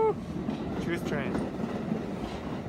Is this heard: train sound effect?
yes